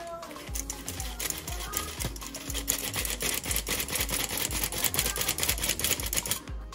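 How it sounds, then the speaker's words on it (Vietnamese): An electric mixer turns at very low speed through cake batter for Vietnamese-style hot-dog buns as flour is sifted in, with a loud, regular rhythmic thumping and whirring throughout, close by. "Sau mỗi lần rây bột vô thì mình sẽ để máy đánh chậm thật chậm để cho nó trộn đều"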